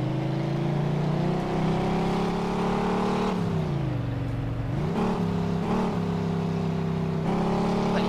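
A car driven in the game Mafia 2 holds a steady engine drone with gear and pitch shifts as it speeds along a street, loud and close throughout with no talking.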